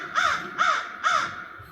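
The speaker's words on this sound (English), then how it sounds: "These crows don't appreciate that" Three loud, close crow caws in an even alarm rhythm, each harsh call about a third of a second long with short gaps between them.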